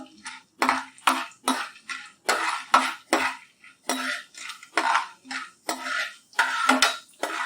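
Lentils and spices for homemade dry sambhar masala being dry-roasted in a pan, heard as a steady series of close, sharp scraping and rattling strokes of a utensil against the pan, roughly one every half second, with no voices.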